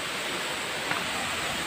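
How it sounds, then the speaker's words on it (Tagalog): Busay Falls, a very tall waterfall at Barangay Tumagabok, with a low water flow, gives off a steady, even rush of falling water that fills the whole moment without a break or any voices. "At ito na nga po ka-viewers yung Busay Falls."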